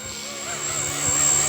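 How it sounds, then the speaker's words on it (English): A Blade 150S small RC helicopter flies through fog, its high-pitched rotor whine steady and fairly close, slowly rising in level. "everybody loves walking their helicopters"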